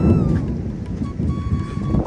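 A heavy thunderstorm rolls on with a deep, continuous rumble and rain noise, loud and close, with wind buffeting the microphone.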